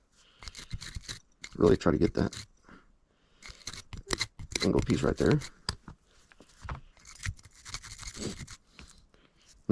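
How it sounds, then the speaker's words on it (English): A toothbrush scrubs the parts of a Jimenez Arms .380 pistol during cleaning, with brisk, scratchy bursts of brushing mixed in with someone talking nearby. "Use this toothbrush."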